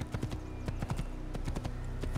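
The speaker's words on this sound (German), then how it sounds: "Braves Pferd. Schön brav Pferdchen." Horse hooves clip-clop in the Assassin's Creed video game, a steady trotting rhythm of sharp hoof strikes on hard ground, moderately close, over a low ambient hum with no talk.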